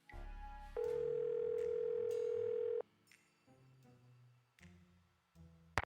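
A telephone dial tone sounds in the Nancy Drew game The Haunted Carousel, a steady, clear electronic tone holding for about two seconds before giving way to quieter scattered game sounds.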